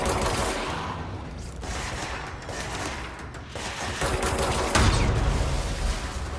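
Explosion and gunfire fill the video game Control: a dense, continuous barrage of rapid shots and crashing blasts, loud and sustained throughout, with a heavier boom late on and no talk.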